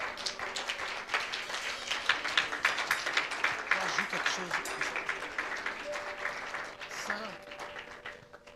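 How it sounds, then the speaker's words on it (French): A church congregation claps loudly in rhythmic, sustained applause with cheering voices mixed in, steady for several seconds before gradually thinning. "Est-ce qu'on peut applaudir bien fort notre Seigneur?"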